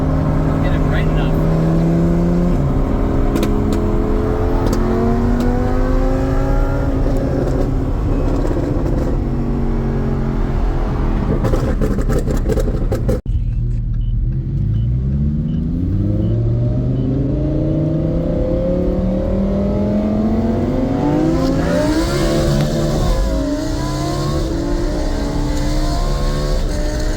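Tuned 670 hp Lamborghini Huracan with HD Tuning work, revving hard and holding a long tire-destroying burnout, loud and close, with engine pitch sweeping up and down and a brief cut midway; voices talk at points throughout.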